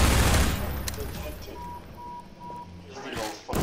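Gunshots in Half-Life 2 crack out in a loud rapid flurry at the start, then thin to sparse shots and beeps before another burst at the end, with people talking throughout.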